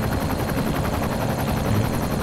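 Helicopter in the Minecraft video game, a loud continuous rotor thrum with rapid steady chopping pulses, alone with no talk.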